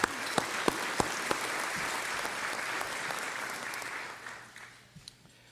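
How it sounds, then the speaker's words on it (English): An audience applauds its corporate sponsors at a business awards event, a steady wash of clapping from many hands that holds evenly, then thins out and fades into a few scattered claps at the end. "Let's have a round of applause for our corporate sponsors."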